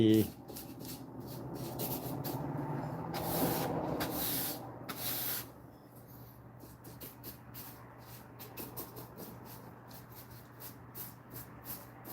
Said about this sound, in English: Splash a little bit more paint around before I wrap up for the night.